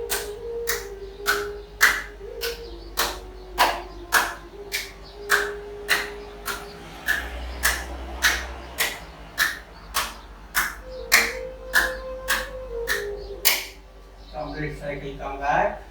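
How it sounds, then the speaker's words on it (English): Sharp hand claps during a standing Hatha yoga exercise, arms swinging to clap in front and then behind, a steady run of about two dozen evenly spaced, crisp claps close by, with a faint low tone in the background. "Clap front and back."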